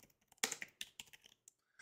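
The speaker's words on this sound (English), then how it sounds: "Excuse my typing." Keys clack on a computer keyboard in a short, irregular burst of close, crisp taps with small pauses between them, quiet and without speech.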